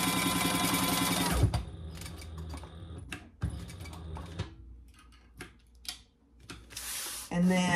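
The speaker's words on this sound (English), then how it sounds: "I'm gonna just baste this short, long edge here" Sewing machine basting the edge of a fabric car trash can, a brief burst of fast stitching followed by clicks, knocks and handling noises from the machine, with a voice talking at times.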